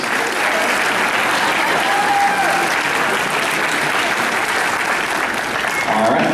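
Continuous applause from a sizable crowd at a cosplay convention, loud and even throughout with no pause or letup.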